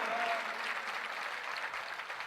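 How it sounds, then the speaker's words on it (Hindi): A crowd in Bhopal applauds in welcome of the revered guru Samay Sagar Ji Maharaj, a steady, even wash of clapping that holds at moderate level throughout without breaks. "इनका तो तालियों की गड़गड़ाहट से स्वागत होना चाहिए, अभिनंदन होना चाहिए।"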